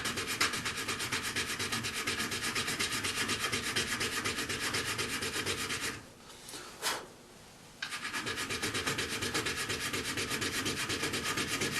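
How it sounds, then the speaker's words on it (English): A metal file rasps steadily over wire inlay set into wood, a close, continuous scraping of rapid even strokes that stops briefly midway, with one sharp knock, then resumes. "You can take and file that down a little bit."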